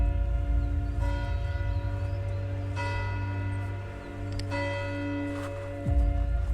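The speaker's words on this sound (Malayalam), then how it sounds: "ഇപ്പം 4 മണിയായിട്ടുണ്ട്, വൈകുന്നേരം 4 ബെല്ലടിച്ചിരിക്കുന്നു" A church bell at Preston Tower strikes four o'clock, heard as slow, evenly spaced strokes whose bright overtones hum and sustain between blows over a constant low outdoor rumble.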